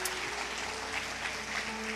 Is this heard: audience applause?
yes